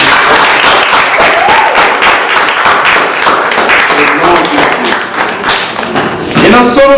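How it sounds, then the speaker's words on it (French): Guests at a wedding ceremony clap in a dense, loud burst with heavy thumping hits, while voices carry on underneath and the sound thins near the end. "Est-ce que nous avons applaudi?"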